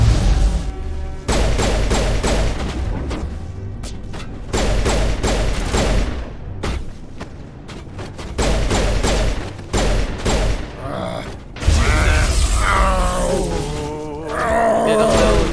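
Bursts of rapid gunfire and booming explosions in the video game Mass Effect, loud repeated volleys separated by short gaps, with rumbling blasts and game voices toward the end.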